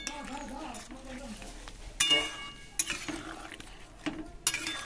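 A spoon stirs boal fish curry in a pot after sugar and garam masala paste go in, giving soft scraping with a few sharp metallic clinks against the pan; a voice talks over parts of it.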